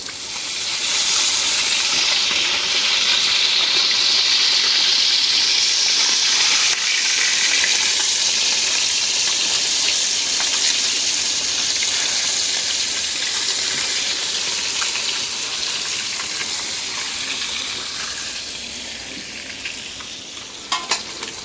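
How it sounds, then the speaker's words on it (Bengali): Rohu fish fries in a kadai with a loud, continuous sizzle and spattering hiss that holds steady for a long stretch and eases slightly toward the end. "আগে মাছ ভাজলাম, তারপরও মাছ কি সুন্দর নড়ে চড়ে"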